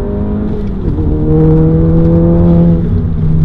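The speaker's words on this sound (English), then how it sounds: "I can finally really launch the car the way I want to now" A Stage 2 tuned VW MK7 GTI launches hard, its engine note climbing steadily in pitch as it accelerates, loud and close with a continuous droning rev that rises over several seconds.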